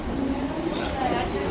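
A moving suburban train at Dadar station rumbles steadily with wheel and carriage noise, heard close under people talking nearby.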